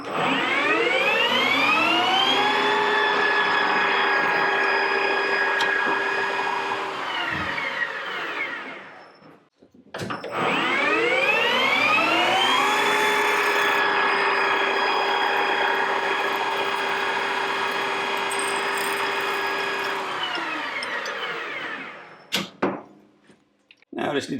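A machine spins up to a steady whining hum in two long runs while a jig for holding 410 stainless bolts is made, each rising, holding and winding down, then a few clanks at the end.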